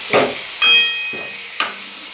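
Tomatoes going into a sizzling pan of Maharashtrian sprouted moth bean curry, with three distinct stir-and-sizzle bursts over a steady close frying hiss.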